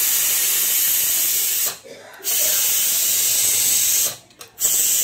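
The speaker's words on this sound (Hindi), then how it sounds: "कुकर की पूरी हवा निकालने के बाद ही हम लोग कुकर खोलेंगे" A steady, loud hiss of steam venting from a pressure cooker of chicken curry, cutting out briefly twice before resuming.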